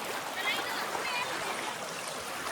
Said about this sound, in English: You got those nice water sounds to just listen to, just stand in the middle.